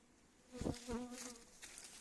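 Honeybees buzz close by during a honey harvest at the hives, a steady, wavering drone that swells loudly for a moment and then settles back to a softer hum.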